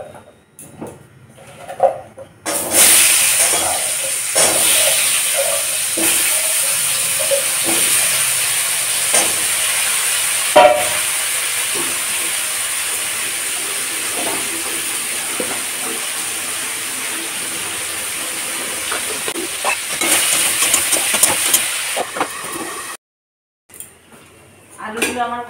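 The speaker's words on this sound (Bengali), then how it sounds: "এবার আমি আলুগুলো ভেজে নিব।" Potatoes frying in hot oil in a wok give a long, steady, loud hiss with occasional clinks and crackles, framed by brief quieter moments at the start and end.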